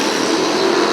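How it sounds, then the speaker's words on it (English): A classic Chevrolet Bel Air passes on a wet street at the Woodward Dream Cruise, a steady loud engine and tire rush close by, with no talking over it. "I think this is a Bel Air coming."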